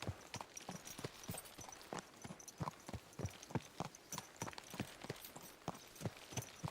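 Horse hooves clip-clop in a quick steady rhythm in the video game Kingdom Come: Deliverance II, close and clear, with a faint wash of background sound.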